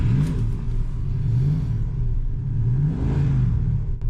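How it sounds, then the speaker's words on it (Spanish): A 1973 Jensen SP's 7.2-litre engine revs up and settles in a steady, loud low rumble, with two rising swells of pitch across the few seconds and no talk. "el motor simplemente tiene un sonido discreto pero contundente"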